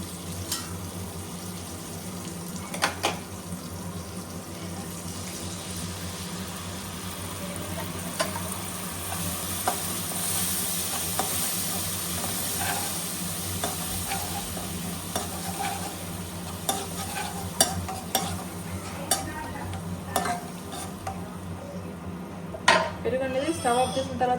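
Curry leaves sizzle in hot oil in a pan while being stirred, a steady frying hiss with scattered scraping clinks of a spoon against the pan, close and moderately loud, with a faint voice in the background.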